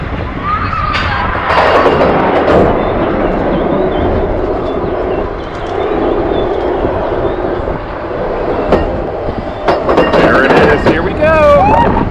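An Expedition Everest roller coaster train rolls out from the back car, a steady rumbling ride noise with clanks and bursts, while riders talk and shout over it.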